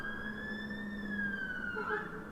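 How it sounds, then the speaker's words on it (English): Fire engine siren in the football management video game Football Manager 2020, a steady high wailing tone held for the whole moment with a slight rise and fall and a low hum beneath. "It's a fire engine."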